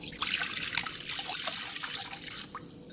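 Water being poured into soy bean curd powder to make the mix, a steady trickling splash with small drips running continuously and close by, without voices.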